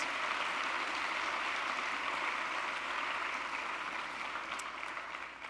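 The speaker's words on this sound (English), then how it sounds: "Let's give a round of applause for these researchers." An audience at a university State of the University address applauds researchers, a soft, steady, distant-sounding wash of clapping that holds evenly and fades slightly at the end.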